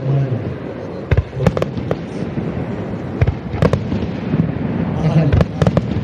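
Fireworks at the Akigawa river fireworks festival burst in a series of sharp booms, some doubled in quick succession, over a crowd's low murmur and nearby voices talking.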